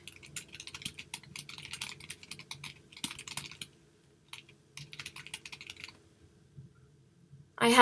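Typing on a computer keyboard while writing link text in a FreshDesk support ticket, quick bursts of close, crisp key clicks with short pauses between runs, faint and alone.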